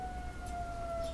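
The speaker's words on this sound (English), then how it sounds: "there seems to be a siren outside" A siren outside holds a steady, faint wail heard from a distance through the room, with no talking over it.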